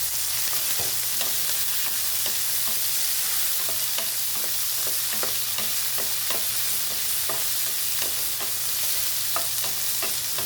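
Boiled chicken pieces going into a hot pan of eggplant, frying with a steady sizzle while a spatula scrapes and stirs in irregular, close, clear strokes, with no talking.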